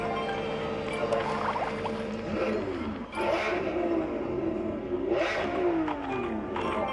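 A car engine with stock exhaust revs up hard toward an 8,500 rpm limiter, with a couple of rising sweeps and a stutter around the limit, clearly audible at moderate level.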